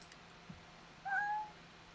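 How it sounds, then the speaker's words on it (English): A single short cat meow in Hearts of Iron IV, fairly faint and clear over a quiet low hum, heard alone. "Oh my gosh, the cat is back."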